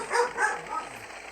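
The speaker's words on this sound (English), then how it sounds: "If you hear a dog in the background, that's Shadow." A dog named Shadow barks in the background, a few faint yips and short barks spread over about a second, distant and quiet.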